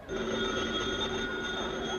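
An old mid-1950s telephone bell rings steadily and loudly in a live television comedy broadcast, a continuous electric ring filling the whole moment with no voices over it.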